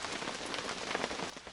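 Cold rain pours down steadily outdoors, a dense, even hiss of drops hitting surfaces, fairly close and with no voices.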